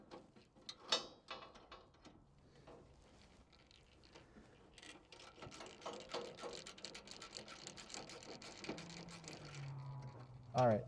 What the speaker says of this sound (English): Now we'll put the other screw in, tighten that one all the way down completely